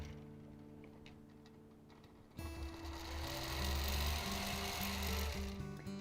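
A sewing machine runs steadily through free motion quilting, retracing earlier stitch lines; after a quieter stretch of faint ticking, the motor kicks in loud and close with a continuous rhythmic whirring drone that holds to the end.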